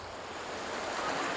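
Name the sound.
water rinsing sunburned feet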